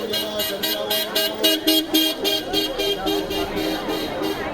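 Car horns toot repeatedly in quick, regular bursts on a crowded road to Rishikesh, close and loud over a steady traffic hum.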